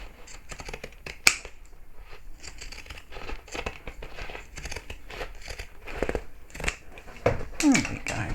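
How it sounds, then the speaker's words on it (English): Crisp snipping and crunching of pinking scissors cutting through fabric for a handbag, irregular cuts close by, with quiet rustling between them. "I think I need a new pair of pinking scissors."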